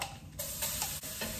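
Garlic, ground ginger, green chili and curry leaves sizzling in hot oil for a zunka: a continuous bright crackling hiss with small pops, steady and close.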